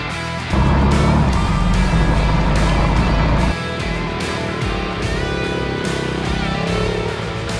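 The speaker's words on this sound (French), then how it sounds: "On parle bien d'un 4 roues de course et il est manuel." A manual racing quad ATV engine roars loudly and close, revving hard for a few seconds and then dropping to a steadier, lower drone with gear-like pitch changes.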